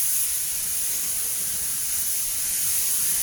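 Steady spray gun hiss of paint being applied in even coats to a rusty wheel arch panel on a Mk7 Ford Fiesta, a continuous airy rush with no breaks or voices.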